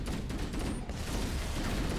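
Rapid bursts of gunfire from a gun in the video game Halo, dense overlapping shots in a steady stream, loud and close with no speech.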